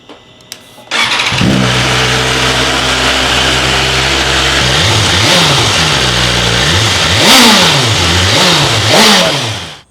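A BMW S1000RR sport motorcycle with its stock exhaust, before an Akrapovic header install, fires up after a click, settles into a loud close idle, then gets blipped through several sharp rising-and-falling revs.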